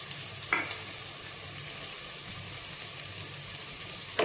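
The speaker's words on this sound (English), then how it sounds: "I won't deep fry the onions, to keep it shallow fry." Onions and boiled potatoes shallow fry in a pan for sabudana khichdi, giving a soft, even sizzle with a couple of brief scraping clinks of a utensil at the start and end.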